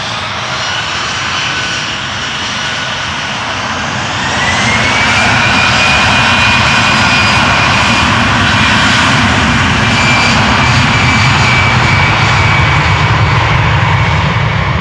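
A Delta Airbus A330-300 departs the Polderbaan runway at Schiphol, its jet engines roaring loud and steady, the noise swelling a few seconds in and then holding at a broad, sustained level with a rising whine.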